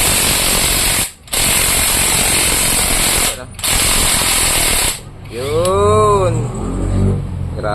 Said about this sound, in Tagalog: Baka umaso yung aming drill, uh, impact drill.